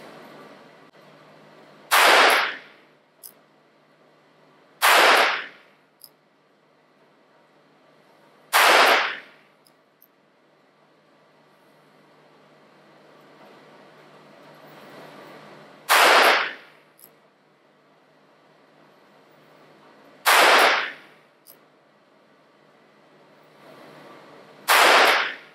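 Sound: Ruger LCR .22 revolver gunshots at target practice

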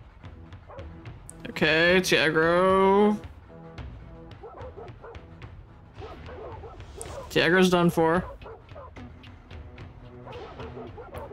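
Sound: dogs barking in the video game Soulstone Survivors

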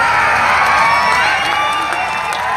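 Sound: audience applause and cheering at folk concert

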